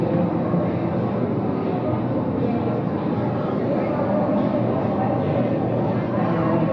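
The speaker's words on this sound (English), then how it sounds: "I'm now speaking to you from a noisy cafeteria. There's a lot of people speaking around me, a lot of voices competing with mine." Dense babble of many overlapping voices in a noisy cafeteria fills the scene, a loud and constant wash of crowd chatter with no single voice standing out.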